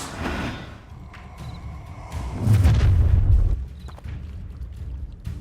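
The Incendio fire spell from the Hogwarts Legacy video game lands as a deep whooshing boom with a low rumble that swells and then fades, set among scattered thuds and clicks of combat.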